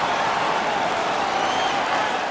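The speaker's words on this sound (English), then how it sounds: "The home crowd is ecstatic." Arena crowd noise from the NHL 16 ice hockey video game: a dense, steady roar of cheering home fans, loud and continuous throughout with no clear breaks.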